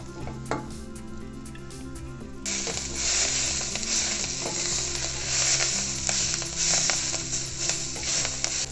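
Chopped tender chickpea (harbhara) leaves fry in a kadhai, a steady sizzle joined by quick, rattling stirring scrapes that grow louder and denser midway and keep going to the end.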